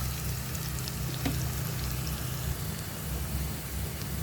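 Dry red chillies frying steadily in hot oil, a continuous close crackling sizzle with fine spattering pops throughout, no voices.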